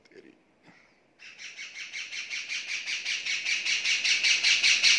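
Pet parrots in free-flight training call out with a few faint early squawks, then a long run of rapid, rhythmic shrill screeches that grows steadily louder and closer.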